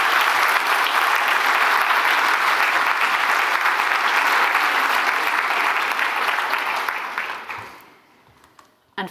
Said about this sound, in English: give him a big clap anyway